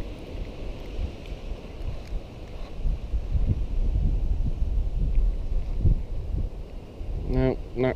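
Steady wind rushes and buffets outdoors, a constant roar with gusty thumps, and a brief burst of voice near the end.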